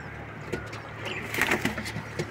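Pakistani mohar pigeons cooing nearby, a few soft low throaty coos over a faint background hum.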